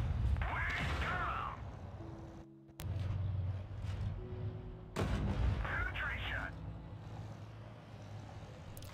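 Tank cannon fire in World of Tanks from an M48 Patton, a few sharp booming shots cutting through continuous engine and battle noise, with someone talking over it.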